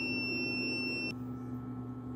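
A Snadi inverter's buzzer sounds one steady, shrill electronic tone that abruptly cuts off partway through, leaving only a low electrical hum behind.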